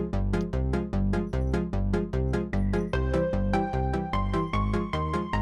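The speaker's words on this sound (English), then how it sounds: "This is the music that I made as a MIDI file originally." Silly, frantic music originally made as a MIDI file bounces along in fast, evenly spaced plucked notes over a steady bass pulse, loud and clean with no talking.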